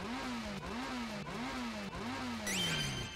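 In a Kamen Rider video game, a motorcycle engine revs in repeated rising pulses, about five in a row, steady and mid-loud. A bright electronic game effect joins near the end.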